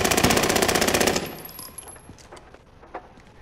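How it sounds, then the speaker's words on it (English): An electronic gun in Warzone fires a rapid automatic burst, loud and close, for about a second. The burst then cuts off, leaving faint scattered clicks and game ambience. "this damn electronic gun"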